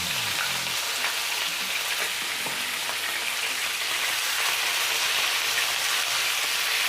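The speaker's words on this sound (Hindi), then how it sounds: "और इसको अच्छी तरह से ऑयल में डाल के भूनेंगे" Minced chicken kheema in about half a cup of oil sizzles steadily in a pan, a dense continuous frying hiss with faint stirring scrapes near the start, close and alone without talk.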